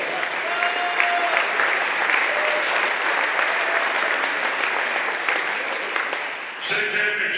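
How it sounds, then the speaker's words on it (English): Sustained applause from a banquet audience at a Hall of Fame dinner, dense and steady for several seconds with voices mixed in; near the end the clapping drops briefly before resuming. "Give her a round of applause."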